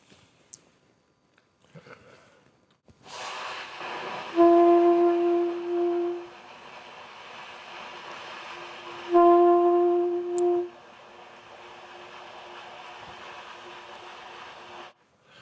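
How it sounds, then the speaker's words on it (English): Two soft sustained trumpet tones, each lasting about two seconds, played over a steady breathy hiss with quiet pauses between them. "A whisper tone sounds like this."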